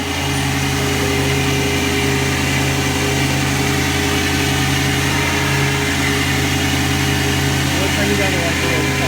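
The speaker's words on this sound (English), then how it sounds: "We're lifting a man with just suction power." A SmartVac vacuum truck at the WWETT Show 2017 trade show runs its suction system in a loud, constant roar over a humming engine, with voices talking faintly underneath.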